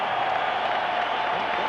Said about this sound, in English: how about a round of applause for these 2 heavyweights in the ring here tonight